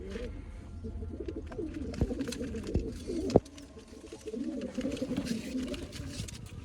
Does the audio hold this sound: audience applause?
no